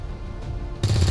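Gunfire in the video game XCOM 2 (Long War 2 mod), a brief low rumble abruptly giving way to a loud burst of rapid shots at the end.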